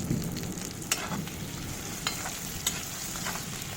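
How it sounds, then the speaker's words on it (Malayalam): Chopped onions fry in a pan with a steady, faint sizzle while being stirred, with a few sharp scrapes of the spoon against the pan. "ഉള്ളിയൊക്കെ കരിയാണ്ട് നന്നായിട്ടൊന്ന് മൂപ്പിച്ചെടുക്കുക"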